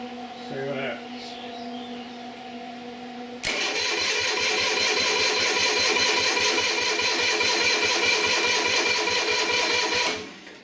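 An Onan diesel generator engine cranks over after its battery was charged, a steady fast rhythmic chugging from the starter that runs for about seven seconds and then stops, loud and close, with brief talk before it starts.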